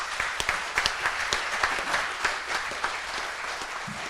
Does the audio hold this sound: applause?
yes